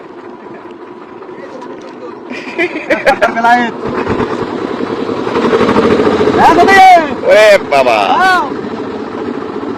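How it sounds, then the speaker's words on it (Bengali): A small trawler boat's engine runs on a river, a steady droning hum under loud nearby talk, with bursts of voices and splashing movement over the continuous motor. "আমাদের ছোট্ট ট্রলারটি ছেড়েছে চকবাড়া থেকে, আমরা যাচ্ছি দৃষ্টিনন্দনের দিকে।"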